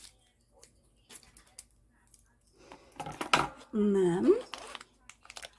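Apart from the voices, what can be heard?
opening the plastic wrapper of DAS air dry clay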